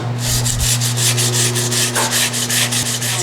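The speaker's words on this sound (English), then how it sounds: "So it's got a little rust around this rim, so I'm going to clean that up a little bit. I just got a little bit of sandpaper here." Sandpaper rubs rust off a wheel rim in quick, rhythmic back-and-forth strokes, close and steady, with a constant low hum running underneath.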